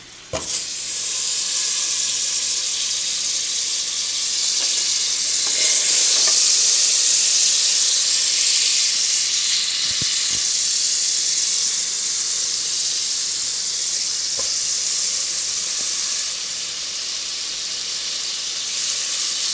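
Butter for mac and cheese sizzles in a hot pan, a loud continuous sizzle with faint occasional clinks and scrapes, steady throughout.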